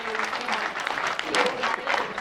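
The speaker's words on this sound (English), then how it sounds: "He's getting a lot of claps for what he's saying" Audience applause for a speaker at a debate event, a steady wash of clapping filling the whole stretch at moderate loudness with voices mixed in underneath.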